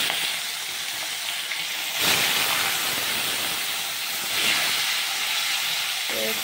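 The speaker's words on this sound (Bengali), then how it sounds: "তো চলো মাছগুলো একটু ভালো করে ভাজা হোক" Amodi fish frying in hot oil for a spicy oil curry, giving a steady close sizzling hiss that swells briefly twice, with no talking.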